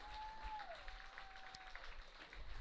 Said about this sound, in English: let's give one last round of applause to a tremendous season